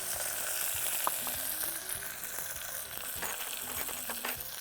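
Mint and coriander sauté with bay leaf, cinnamon and fennel in a hot pan, giving a close, steady sizzle with faint crackles and occasional stirring scrapes.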